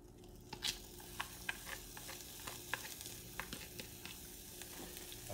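Onions frying in extra virgin olive oil, a steady close sizzle with irregular crackles and light stirring scrapes, with no talking.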